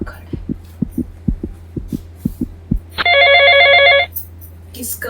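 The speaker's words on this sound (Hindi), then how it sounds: "किसका फोन आ गया?" A telephone rings in one bright, trilling burst of about a second, after a run of steady low thumps and a constant hum.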